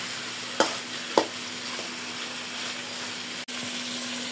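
Chicken pieces are stirred in a frying pan with a spoon, giving a steady sizzle and two sharp scrapes or knocks early on. There is no talk.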